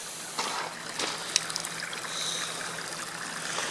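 Floodwater trickles and gurgles through drainage trenches in a soft, continuous flow with small splashy bursts, fairly faint and outdoors.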